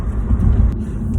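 A BMW 325xi E46 that runs rough, driving on a small highway, heard from inside as a loud, steady low rumble of engine and road noise with no voices.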